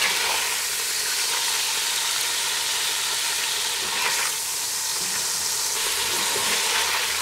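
Meat searing in a Dutch oven for Irish stew, a loud steady sizzle and hiss that fills the whole stretch with no pause, close up, with faint stirring scrapes and no talk.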